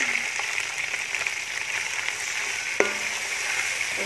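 Onions frying in hot oil for yakhni dam pulao give a steady, even sizzle with a few faint clinks of stirring and one sharp tap partway through.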